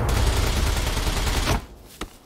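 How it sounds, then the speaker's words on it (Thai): A sustained burst of rapid gunfire in the video game SCUM fills the first second and a half, then cuts off, followed by a single sharp shot. No one speaks. "มันไล่ยิงระดับผมมาเลยนะ"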